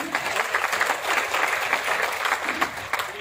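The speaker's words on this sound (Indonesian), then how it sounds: "tepuk tangan buat Ibu Bapak sekali lagi" Audience applause for the parents at a university seminar talk, steady dense clapping from a roomful of people, even and continuous for several seconds.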